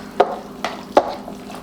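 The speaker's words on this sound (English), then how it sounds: "And we stir." A spoon works through a peppered lasagna sauce mixture in a pan, giving three short, distinct scraping strokes spaced unevenly over a quiet background.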